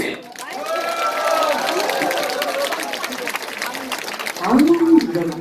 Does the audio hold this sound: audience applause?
yes